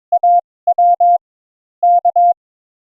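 Short bursts of a steady beeping tone in irregular groups of dots and dashes, clean and isolated against silence: simulated Morse radio station signals from a Morse trainer.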